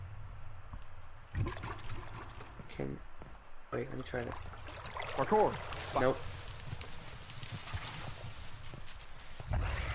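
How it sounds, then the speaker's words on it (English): Water splashes and pouring sounds from the Minecraft video game trickle along at low volume while players talk over them. "I heard splashes when I did that."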